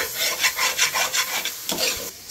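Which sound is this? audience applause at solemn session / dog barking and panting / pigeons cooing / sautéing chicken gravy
sautéing chicken gravy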